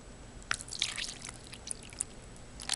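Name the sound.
water dripping into tarantula enclosure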